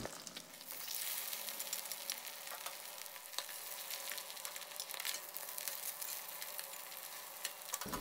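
Thai crispy green mussel pancake batter frying in hot oil, a steady, dense sizzle and crackle that runs close and continuous throughout with no talking.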